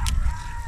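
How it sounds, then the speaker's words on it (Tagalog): A rooster crows briefly and chickens cluck in a rural village in Igbaras, Iloilo, a short close burst of fowl sounds heard alone. "yung tunog lang ng manok"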